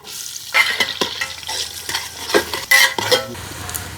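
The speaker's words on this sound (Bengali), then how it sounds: "চুলায় হাড়ি দিলাম সয়াবিন তেল দারচিনি এলাচ তেজপাতা পেঁয়াজ কুচি" Sliced onion with cinnamon, cardamom and bay leaves fries in soybean oil in a pot on a village stove, with sharp crackling bursts and metallic stirring clatter over a sizzle, close and without speech.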